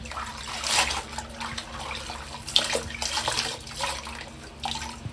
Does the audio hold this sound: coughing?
no